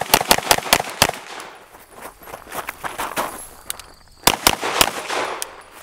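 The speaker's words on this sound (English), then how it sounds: "you can shoot the gun while holding it just like this" B&T TP9 compact pistol-caliber gun fired in rapid close, sharp shots, a quick burst at the start, scattered single reports through the middle and another short burst near the end.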